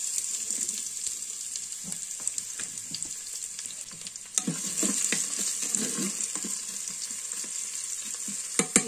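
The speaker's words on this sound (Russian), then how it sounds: "Лучок у нас обжаривается." Onions sizzling and crackling in hot oil in a multicooker, a steady frying hiss with scattered pops and a few clinks of stirring.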